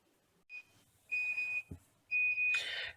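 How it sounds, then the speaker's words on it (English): A kitchen timer goes off during sourdough muffin baking, giving several sustained electronic beeps in separate bursts that sound close and clear in a quiet room. "the timer's just gone off."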